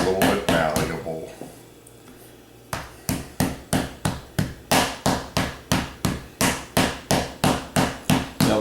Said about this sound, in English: always begin by using the rolling pin. Somewhat soften the dough, make it a little bit malleable.